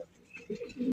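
Domestic pigeon on a breeding farm, a red Rasgolla-coloured bird, gives a short series of soft, low cooing calls close by, swelling in the second half with no talk over it.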